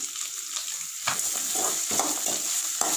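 Small onions sauté with a pinch of salt in a pan, a soft continuous sizzle broken by a few brief stirring scrapes, fairly quiet with no voices.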